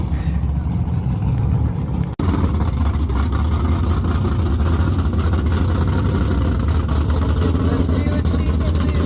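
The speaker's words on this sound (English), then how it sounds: "All these loud engines." A 555 big block Chevy drag car engine with 15:1 compression and nitrous runs loud and raw at the track, a dense continuous roar after a brief dip near the start.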